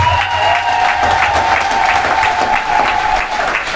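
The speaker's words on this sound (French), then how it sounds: "Je veux qu'on applaudisse Touré Alpha Yaya." A crowd at a French-language political gathering applauds loudly and continuously, dense clapping with a faint steady tone running beneath.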